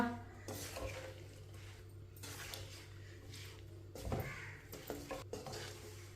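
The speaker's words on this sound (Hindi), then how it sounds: "अच्छी तरह मैंने मिक्स कर लिया है। अब इसी तरह 1 मिनट के लिए चम्मच लगा लेंगे।" A spoon stirs red chili powder and turmeric through hot oil for mixed pickle, giving soft scraping with a low sizzle underneath and a few louder clanks against the pan. No one talks.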